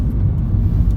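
Steady low rumble of road noise inside a moving 2012 Honda Jazz RS (GE8) hatchback, a continuous engine-and-tyre drone filling the cabin with no voices.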